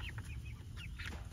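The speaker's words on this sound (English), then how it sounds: "there's the one big one, Cornish cross here, that we're raising up in the Joel Saladin style mobile chicken mobile" Cornish cross meat chickens out on grass in a backyard mobile coop cluck in soft, brief calls over a low, steady background hum, faint and a little distant.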